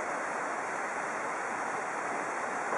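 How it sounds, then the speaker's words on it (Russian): River water of the Dimçay pours over concrete canal slabs in a continuous broadband rush, steady and fairly loud throughout with no voices. "вода скатывается по бетонным плитам канала реки Димчай"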